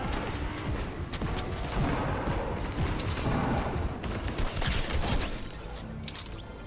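Dense, continuous gunfire fills a Fortnite match, with bursts of shots and clattering impacts layered over one another at high loudness, with no let-up.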